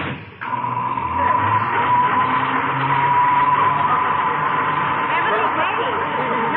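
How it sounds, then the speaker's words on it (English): A noisy self-service elevator runs with a steady, loud mechanical rumble and whine that starts abruptly and holds for several seconds. "The elevator makes so much noise I can't hear you."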